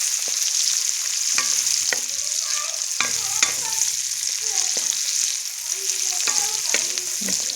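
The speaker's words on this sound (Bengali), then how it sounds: "তেলের উপর একটু কুচনো পেঁয়াজ দিয়েছি। পেঁয়াজটা ভালো করে ভাজতে হবে।" Chopped onion fries in oil in a wok with a constant sizzle, punctuated by frequent clinks and scrapes of a spatula stirring against the metal, close and fairly loud, with no talk.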